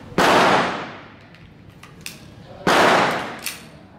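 Two loud gunshots at an outdoor firing range, each a sharp blast with a ringing decay, about two and a half seconds apart, with fainter distant shots between them.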